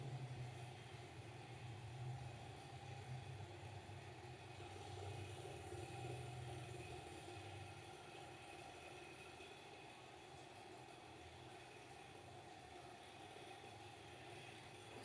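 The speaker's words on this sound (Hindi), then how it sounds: "1/2 इंच का मार्जिन देकर नीचे से भी सिलाई चला लेंगे।" A sewing machine stitching a blouse with a half-inch margin runs as a continuous, even motor hum and whir, moderately quiet and unbroken throughout, with no voices.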